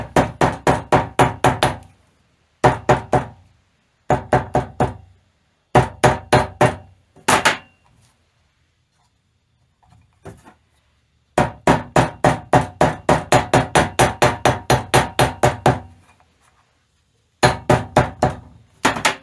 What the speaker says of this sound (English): that hammer is just cutting that gasket material